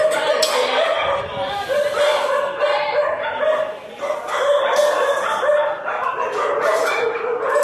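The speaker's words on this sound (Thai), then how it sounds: "สุนัขนะครับ" A stray dog at a rural Thai animal shelter barks and yips repeatedly, close and fairly loud, with chickens and a rooster crowing nearby in a busy outdoor yard.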